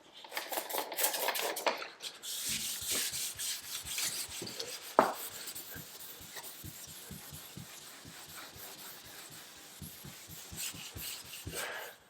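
Fine 2000-grit sandpaper rubbed back and forth over clear-coated car paint on a Honda Accord with orange peel, making a steady close rasping scrape in short repeated strokes, with one brief louder knock partway through.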